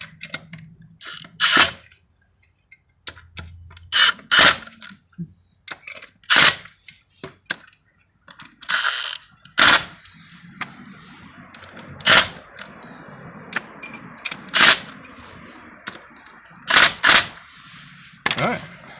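Bolts are run into a Ford 4R75E automatic transmission, with sharp metallic clicks and clattering taps in irregular bursts, close up, separated by quiet gaps and a longer stretch of softer mechanical rattling.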